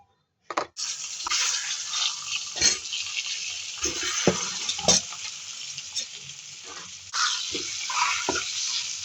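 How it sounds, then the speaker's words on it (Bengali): Eggs fry in oil in a wok, a loud close sizzle that bursts in abruptly and carries on, punctuated by repeated scraping and knocking of a utensil against the pan. "সেখানে একটু ডিমটা ভাজবো, এই জন্য এখানে লবণ দিয়ে নিচ্ছি"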